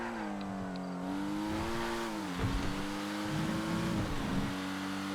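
Race cars overtaking in a large multi-class GTA FiveM race: a steady engine drone rises and dips as the car shifts and passes, with other cars roaring close by in the background.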